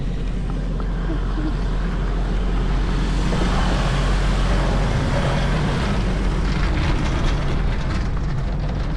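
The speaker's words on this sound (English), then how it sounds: "we have a car and trailer coming up" A car towing a trailer loaded with sheep passes along a country road, its broad engine and tyre rumble swelling to a peak midway and then easing off, heard close by throughout.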